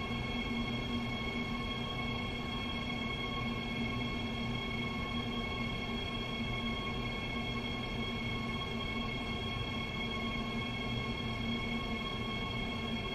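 A Bombardier BR 187 electric locomotive climbs the steep Spessart Rampe in Train Sim World 2, its motors giving a steady hum with tonal whine and rolling rail rumble, constant and moderately quiet, no talk.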